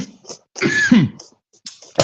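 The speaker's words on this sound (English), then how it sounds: "I'm sorry to cough over what you just said" A person coughs in a podcast setting, a few short harsh bursts close to the microphone, with a brief breathy throat sound after a pause.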